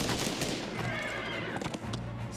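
Rifle fire from the Banner of the Maid strategy game crackles as a rapid, continuous volley of overlapping shots, fairly quiet and steady throughout with a low hum underneath.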